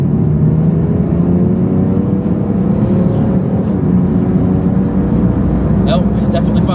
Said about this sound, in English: When you've got your foot down, you're getting a growl out of it, you're getting a bit of noise